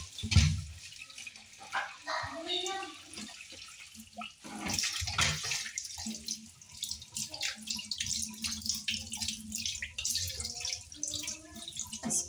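Plates and bowls washed by hand under a running kitchen tap, with steady splashing water and clinks of dishes, fairly close with no talk.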